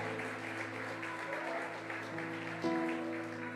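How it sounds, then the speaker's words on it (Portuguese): A church congregation claps in a steady, moderately distant wash of applause, with the sound swelling slightly toward the end. "Se é para Jesus, pode ser melhor esse aplauso."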